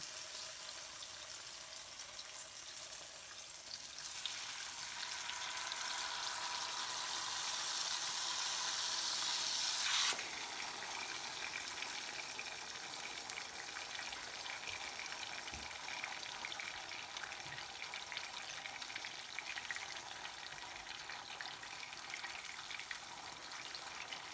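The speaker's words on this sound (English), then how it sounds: "We're gonna dunk our tortilla into the red sauce and then put it on the pan." Corn tortillas dipped in red chilli sauce frying in oil in a pan, a soft continuous sizzle that rises and crackles more loudly midway, then settles into a quieter steady hiss.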